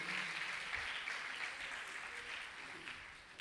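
A congregation claps together during a Catholic Mass, a dense, steady patter of applause that gradually tapers off, heard somewhat distantly with no speech over it.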